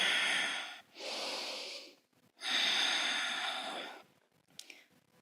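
Slow, deep breaths during a core-strengthening yoga-style workout: two long, loud breaths, each lasting over a second, separated by a short pause, then a few quieter breaths at the end, with no talk.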